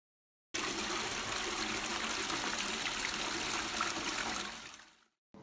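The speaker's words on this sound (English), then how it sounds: "if we flush ourselves down the toilet, we get to go to the sea in no time" A toilet flushes in one continuous rush of gushing water for several seconds before it quickly cuts off.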